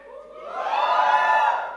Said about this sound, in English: Let's make some noise for the people who like that color.